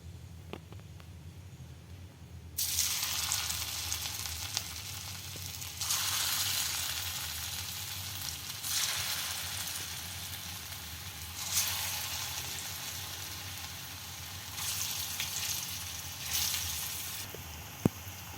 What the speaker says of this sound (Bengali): কড়াইয়ে আমি সাদা তেল গরম করে নিয়েছি, আমি একটা একটা করে ভেজে নেব।